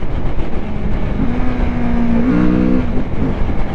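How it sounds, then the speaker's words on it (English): Kawasaki Z650RS motorcycle engine droning steadily while riding, with brief pitch steps midway as it is shifted through gears without the clutch, engine tones rising and dropping. "this gives me an opportunity to test out how the bike shifts without the clutch"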